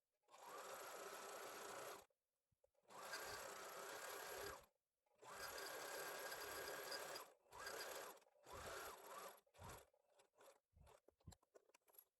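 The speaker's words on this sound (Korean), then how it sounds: "가정용 재봉틀에서 지그재그로 해서 이렇게 실을 끼우고 박음질을 해주는 거죠" A home sewing machine zigzag-stitches with thread thicker than normal sewing thread, running in several bursts of a few seconds each separated by short pauses, then shorter stop-start runs, close and alone.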